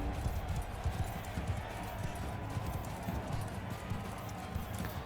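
Horse hooves clip-clop in a fast gallop across the ground in the video game Mount & Blade II: Bannerlord, a steady rolling beat with ambient battle noise beneath.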